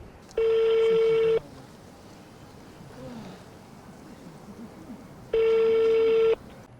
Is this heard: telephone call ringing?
yes